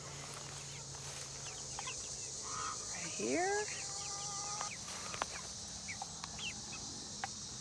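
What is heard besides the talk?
chickens clucking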